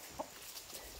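Chickens cluck faintly in a farm henhouse, a few short, soft calls spaced across a quiet moment.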